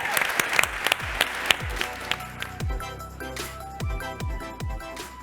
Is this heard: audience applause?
yes